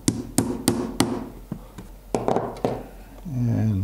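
A hammer taps a 1/8 inch transfer punch to mark screw holes in a clock-making workshop: several sharp, close metallic knocks in an uneven series, followed by a brief low hum at the end.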